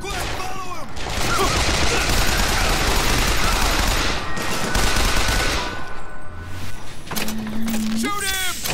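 Bursts of rapid gunfire from the video game BioShock Infinite rattle through a chaotic fight, mixed with shouting voices, mechanical clanks and a rising electronic whine near the end.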